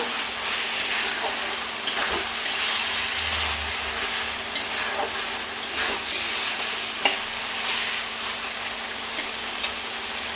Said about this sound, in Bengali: ভেজে রাখা আলুগুলো দিয়ে কিছুক্ষণ দুই থেকে তিন মিনিট আর একটু মশলাটা কষিয়ে নিব